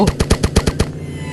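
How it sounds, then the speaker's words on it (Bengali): Video game gun fires a rapid burst of about seven loud close shots in quick even rhythm, then cuts off into a short ringing tail, with no talk. "এটা কি বন্দুক ভাই? এটা কি গান ভাই?"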